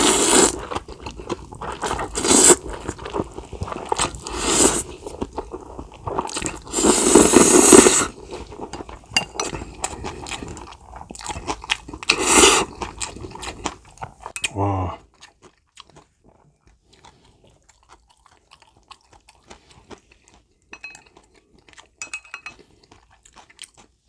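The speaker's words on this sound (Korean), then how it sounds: "오겹살 해서 맛있게 한번 먹어보겠습니다." Someone eats skin-on pork belly with spicy mixed noodles, close up. Wet chewing, crunchy bites and slurps come in loud bursts for about fifteen seconds, then give way to near silence with only faint mouth sounds.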